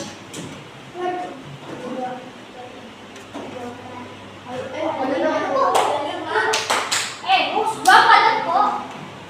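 Classroom clapping game tepuk pagi siang malam, with students clapping in short rhythmic bursts mixed with voices, starting sparse and growing into louder, denser group clapping and chatter toward the end.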